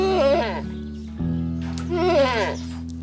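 A goat at an animal sanctuary in Kent bleats twice, loud and close, with each wavering cry lasting under a second and separated by a short pause over a faint steady hum.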